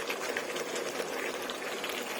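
Escabeche sauce with bell pepper boils hard over high heat in a pan, a steady dense bubbling hiss that runs unbroken throughout with no voices.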